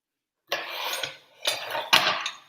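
A spatula scraping and clinking against a pan as food is flipped, three distinct bursts of metallic scraping separated by short pauses, close and clear with no talking.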